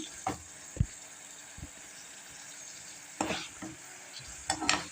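Soft frying sizzle of chicken with black pepper and turmeric, with occasional scraping and stirring noises in a pan, a few louder bursts of movement toward the end.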